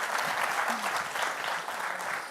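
Applause from the audience at YoastCon 2023, a conference event, as a dense, steady wash of many hands clapping that holds at an even level from start to finish, with no voices standing out.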